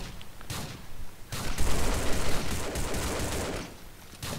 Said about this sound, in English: Oh, she's shooting.